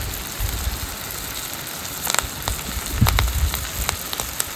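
Fresh curry leaves with their stems dropped into hot frying oil for a mackerel fry give a steady, hissing crackle broken by sharp little pops, close by and alone.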